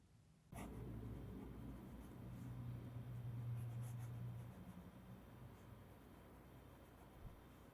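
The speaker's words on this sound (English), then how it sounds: "The next writing sample is done in a composition notebook." A fine-nib fountain pen scratches steadily across the paper of a composition notebook, close and quiet, with no voices.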